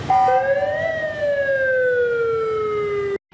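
A police car siren wails close and loud, its tone sliding up then gliding slowly down in a long sweep before cutting off abruptly near the end.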